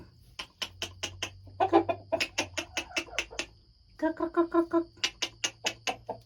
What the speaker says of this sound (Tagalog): Thank you sa itlog, mga chicken. Yan ang chicken ni mami.